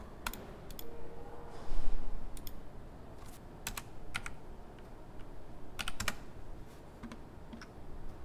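Computer keyboard keys pressed while modelling a sofa and curtains in Blender, several quick click clusters scattered across a quiet room tone, moderately near and fairly soft.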